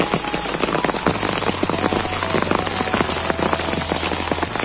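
A hailstorm with heavy rain hammers a tin roof in a dense, continuous roar of close, overlapping impacts that holds loud and steady throughout, with no voices.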